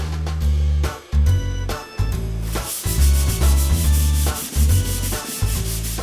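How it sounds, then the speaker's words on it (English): Wood dye being rubbed by hand along the grain of a wooden surface, a steady rhythmic scrubbing that swells and dips in repeated strokes over about six seconds, against a continuous tonal backing. "apply it along the grain pattern from end to end to give it a nice consistent application throughout the surface of the wood"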